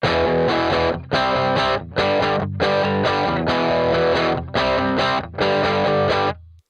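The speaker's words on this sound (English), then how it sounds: "let's turn on the compressor now and see how that affects the overall sound." Electric guitar chords through a compressor and overdrive ring out in a series of strummed bursts, loud and sustained, separated by brief silences.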